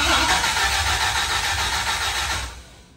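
A Dodge Viper engine cranks steadily for about two and a half seconds without catching, a continuous loud churning whir that cuts off abruptly near the end.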